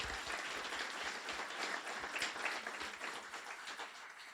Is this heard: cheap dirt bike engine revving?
no